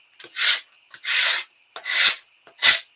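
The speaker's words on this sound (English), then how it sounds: "So now I need my sanding block. And then all I do is I go around and just do a little sanding." Four rough, rasping strokes of a sanding block rubbing a surface, evenly spaced and close, with short pauses between them.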